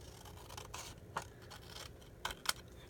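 Scissors snip through paper around a stamped image, a few short crisp cuts at about 1.2 and 2.3–2.5 seconds over quiet handling rustle.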